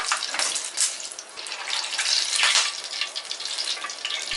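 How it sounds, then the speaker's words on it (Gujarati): Dal vadas and slit green chillies sizzle in hot oil, a dense, continuous crackling hiss held close and loud without pause, and no voices over it. "આ જ રીતે બાકીના બીજા બધા જ વડા ફ્રાય કરી લઈએ. સાથે લીલા મરચાંને પણ ફ્રાય કરી લઈએ."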